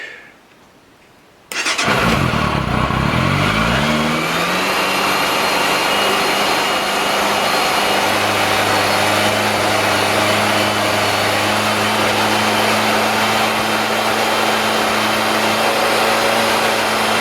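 A Yamaha FZR-600 motorcycle with a charging fault is started with the choke on. After a brief quiet moment the engine catches and settles into a loud, steady, close idle that holds unbroken to the end.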